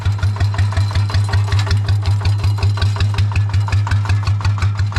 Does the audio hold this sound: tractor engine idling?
yes